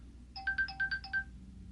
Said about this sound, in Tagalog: Sino kaya itong tumatawag?